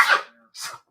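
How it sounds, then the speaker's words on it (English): A single sharp sneeze, close and brief, followed by a softer breathy exhale. "Excuse me. I gotta sneeze."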